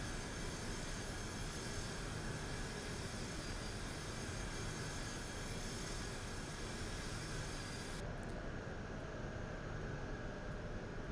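Simulated Gulfstream G-IV SP jet engines at full throttle in the X-Plane 11 flight simulator, a loud, steady broadband roar with a high whine that continues unbroken and alone.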